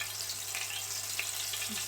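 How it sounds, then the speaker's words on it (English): Meatballs sizzling and frying in a hot pan, a steady crackling hiss with no talking. "I'm about to put the ones I have here ready into the frying pan"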